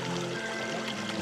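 Water rushes through a 3D-printed floating dredge sluice in a steady, fairly quiet pouring stream that stays even for about a second, with no voices.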